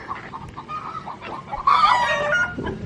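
Chickens cluck in a group nearby, with soft scattered calls followed by a louder burst of busy clucking from about the middle of the clip onward. A rooster-like cry may rise through the flock.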